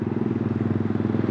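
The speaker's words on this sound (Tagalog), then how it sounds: "Nagmo-motor." A Vespa scooter riding on a hot midday road, its engine humming with a steady pulsing throb close to the rider, loud and continuous with no talk over it.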